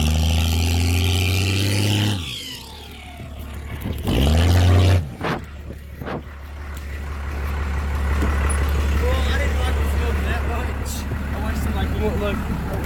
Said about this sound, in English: and now we're doing burnouts